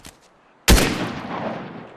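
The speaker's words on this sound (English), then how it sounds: "Next up, let's talk about the Ranger assault rifle" A single sharp gunshot from a Ranger assault rifle in Fortnite cracks loud and close, then rings out in a long fading echo tail lasting over a second, with no talking.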